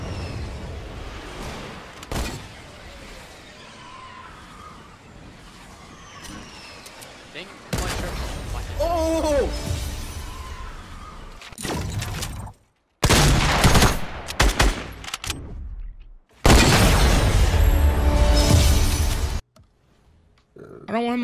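Fortnite gunfire crackling in quick loud bursts, broken by short silences, with an excited voice talking over the shots.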